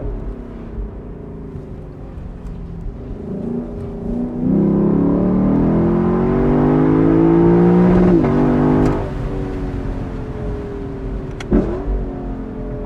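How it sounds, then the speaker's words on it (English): A 2022 Lexus LC500 engine, heard up close, surges into loud rising revs, then drops through downshifts with sharp blips and crackles before settling back to a lower burble. "But listen to these downshifts."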